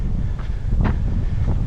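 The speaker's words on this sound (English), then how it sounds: "It's mighty windy here today," Strong wind buffets the microphone on a hiking trail at Black Diamond Mines Regional Preserve, a loud continuous low roar with brief gusty swells and no voices.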